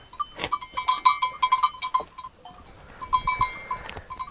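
A small flock of sheep kept for wool, meat and milk, with several bleats over a continuous bright ringing of bells, fairly close and moderately loud, with a quieter stretch midway.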